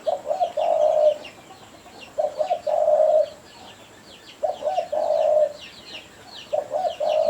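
A spotted dove's cooing plays back from a recording, with about four bursts of repeated soft coo phrases separated by short quiet gaps. The sound is clear and close, with faint chirps between the phrases.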